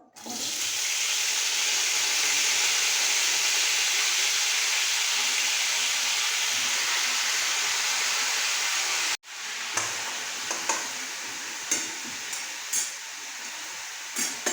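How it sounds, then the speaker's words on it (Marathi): Drumstick pods dropped into hot oil in a kadhai, setting off a loud, steady, close sizzle for about nine seconds, then a sudden cut to a quieter crackle with scattered pops. "शेंगा टाकून घेऊ आपण."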